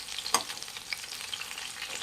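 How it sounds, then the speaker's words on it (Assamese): Pieces of chital fish fry in a small amount of oil, Assamese style, giving a faint, steady sizzle with a few soft crackles and one brief stir. "এনেকৈ ভাজিছোঁ"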